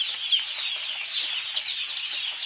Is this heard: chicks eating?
yes